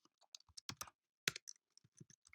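Typing on a computer keyboard: scattered, crisp key clicks close by in uneven bursts, with a louder cluster of presses midway through and otherwise quiet gaps.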